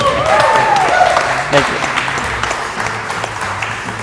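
Audience applause at a 2018 GTO Dream Giveaway winner award ceremony, a sustained wash of clapping with a voice heard briefly near the start, fading slightly toward the end.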